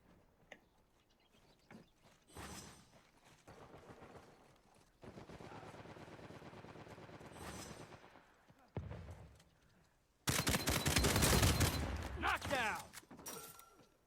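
Gunfire in the video game Uncharted 4 multiplayer: bursts of rapid shots come in clusters at varying distances, and a loud sustained volley of automatic fire and impacts arrives near the end, with a voice talking in between.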